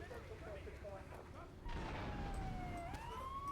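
A wailing police siren in Grand Theft Auto III cuts in halfway and sweeps up and down in pitch, loud over a low rumble, after faint talk at the start.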